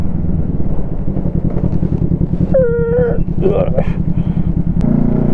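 Kawasaki ER5 motorcycle engine running steadily while riding, a loud continuous low rumble with a slightly slipping worn clutch, heard throughout under wind, with a brief tonal whine partway through.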